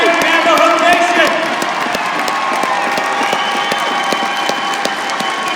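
A large crowd applauding and cheering loudly at a Navajo Nation presidential inauguration, with steady clapping and voices mixed throughout.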